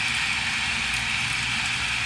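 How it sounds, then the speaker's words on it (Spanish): Ocean sound from an iPhone's built-in background sounds feature, a constant dense wash of noise with faint rolling swells, playing alone without any talk. "Océano."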